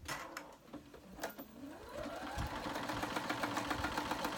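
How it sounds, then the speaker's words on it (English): A sewing machine sews a small seam on a fabric Christmas stocking. It starts after a few faint handling clicks, then settles into a steady, quiet mechanical whir. "So I'm gonna go ahead and sew your preferred method of stitching."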